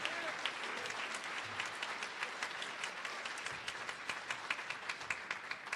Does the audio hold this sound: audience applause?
yes